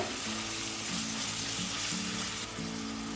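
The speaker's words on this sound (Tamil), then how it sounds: "ஸோ ஆனியன் வந்து நல்லா ப்ரௌன் ஆகிற வரைக்கும் நம்ம குக் பண்ண விடலாம்." Onions frying until brown in a pan for Muslim-style mushroom biryani, a steady close sizzle with a faint low hum underneath and no talking.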